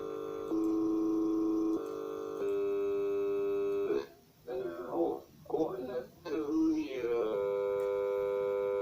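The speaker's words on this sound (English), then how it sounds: "We've got that amplitude modulation hum with those small grains." Steady electronic hum from granular synthesis with amplitude modulation in Pure Data, stacked buzzy tones stepping in pitch, then breaking into choppy warbling grains before settling back into a sustained drone.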